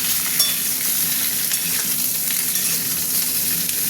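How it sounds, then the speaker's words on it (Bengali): Vegetables fry and get stirred in oil for khichuri, a continuous close sizzle with faint scraping of the stirring throughout, and no voices. "ভালো করে সবজিগুলো ভাজবো,"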